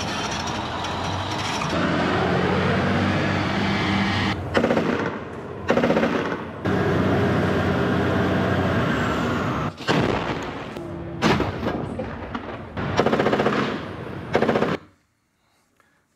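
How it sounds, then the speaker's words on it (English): Tanks maneuvering during combat in the Gaza Strip, with loud, sustained rumbling engines and tracks and bursts of gunfire breaking through repeatedly before the sound cuts to silence near the end. "What we saw here are tanks maneuvering in the Gaza Strip during combat."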